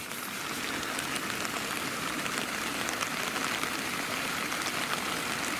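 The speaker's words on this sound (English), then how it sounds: "There's the rain on." Rain falls on a tent at a wild camp in a valley, a dense, steady hiss of drops pattering on the fabric, even and continuous throughout with no voices.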